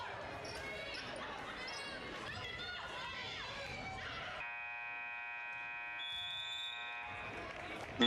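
A long, steady electronic buzzer sounds midway through, marking the end of the third quarter of a high school basketball game, after crowd noise and a commentator's voice in a gym.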